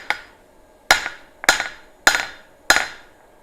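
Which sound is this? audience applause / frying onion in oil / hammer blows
hammer blows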